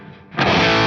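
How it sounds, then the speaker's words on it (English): An electric guitar played through an 808 overdrive pedal followed by a quarter-note echo bursts in after a quiet moment, ringing out loud, thick and saturated. "the overdrive pedal"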